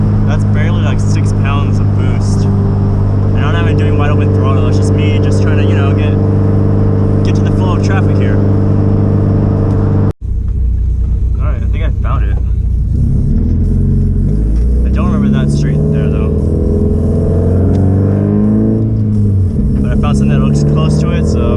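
A turbocharged 450 hp car engine accelerates on light boost, its low droning note swelling and rising in pitch during the second half, under almost continuous talking from inside the car.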